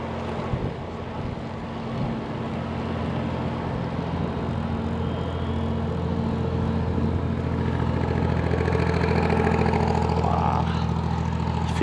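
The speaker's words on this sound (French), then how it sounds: "Il fait du pétard leur bateau de plaisance là." A pleasure boat engine drones loudly and steadily throughout on a lake, with a deep rumbling hum and some wind and water noise around it.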